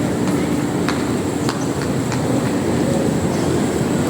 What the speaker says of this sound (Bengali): অনেক বড় মেট্রো স্টেশন এটা